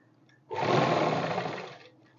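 A sewing machine stitching a kurti runs in one steady whirring burst of about a second and a half, close and loud, with no talking.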